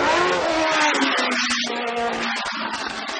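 A 1983 McLaren Formula One car winds up to high revs in fourth gear on a track, its engine screaming loud and close with a steady high-pitched note and brief dips as the revs waver.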